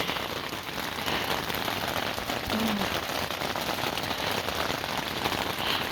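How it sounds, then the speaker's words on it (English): Heavy rain pouring steadily onto a tent, a dense, even patter of drops on fabric close overhead, continuous and fairly loud throughout. "tried to work in the rain, but it just started pouring down"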